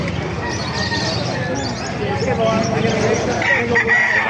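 A rooster crows amid the steady bustle of a live animal market in Calumpit, where chickens are on sale. Voices talk throughout the crowd noise.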